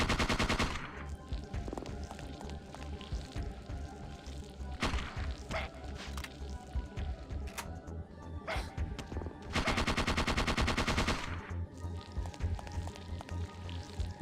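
Gunfire in the video game Parasite Eve 2 comes in repeated rapid bursts of automatic shots, one long sustained burst among shorter volleys, heard fairly faintly with no talking.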